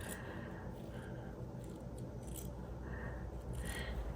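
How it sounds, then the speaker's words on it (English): Quiet, repeated snips of small scissors cutting paper pieces, soft and close, over a steady low background hum. "These little scissors."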